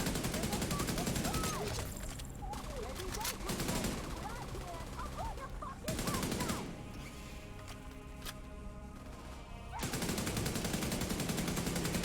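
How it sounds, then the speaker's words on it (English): Enemy gunfire in The Division 2 hammers in loud automatic bursts separated by quieter gaps, with someone speaking between the volleys. "this dude trying to shoot me with that"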